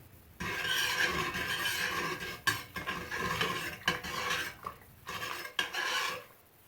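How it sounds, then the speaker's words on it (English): Salt being stirred into hot water in a pot to prepare a tea dye bath for antiquing quilt fabric, heard as a steady close scraping and rasping swirl with brief pauses, alone without talk. "let's give this a stir real quick and dissolve that salt in there"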